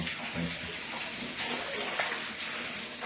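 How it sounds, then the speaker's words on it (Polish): Water poured into an old well in the underground beneath Toruń's old town, a continuous rushing gush with a hollow, echoing quality, steady and moderately loud throughout. "To jest dolewanie wody w tej chwili"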